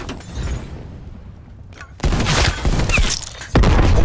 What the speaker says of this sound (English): teammate just set off the proximity mine